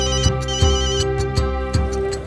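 A mobile phone ringtone plays nearby in a home drama scene, a bright repeating electronic melody with regular, evenly spaced note pulses and no speech over it.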